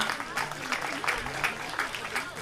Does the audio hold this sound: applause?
yes